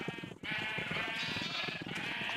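A sheep in Minecraft bleats in a long, wavering, nasal cry that carries on almost without pause, close and fairly loud, heard alone.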